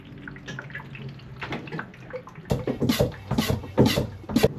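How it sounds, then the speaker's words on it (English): Water drips and splashes from a leaking shower hose connection aboard a boat, irregular close drops and trickles that grow louder and denser toward the end, with no talk. "The connection at my shower hose is dripping."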